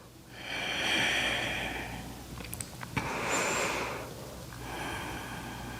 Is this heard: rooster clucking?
no